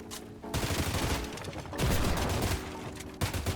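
Dense, sustained gunfire in Fortnite Chapter 7, with rapid overlapping shots and bursts sounding continuously, loud and close, easing briefly before resuming with no talk over it.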